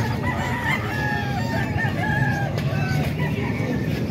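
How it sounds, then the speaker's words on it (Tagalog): Rooster crowing repeatedly close by on a farm, loud drawn-out calls over a steady background hum, with faint clucking mixed in. "Ito pa manok pa ni Buskin mga ka-idol."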